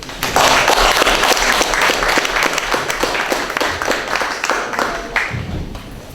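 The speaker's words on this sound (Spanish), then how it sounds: "un aplauso para ellos." Loud, close applause from an academic conference audience for two speakers, with distinct individual claps within a dense round that carries on for several seconds before easing slightly.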